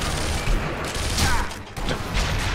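Rifle gunfire in the Sniper Elite V2 video game during street fighting, a dense burst of shots and crackling reports under loud game noise, with no talk.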